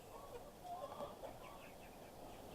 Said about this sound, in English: we have a total of 60 chickens. They're all in here just hanging out.